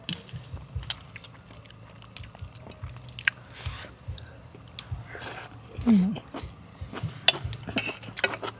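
Crunchy white fungus chewed in a seafood glass noodle salad gives soft, close crunches and mouth sounds, with a few light clinks of cutlery or a dish and a quiet voice murmuring now and then.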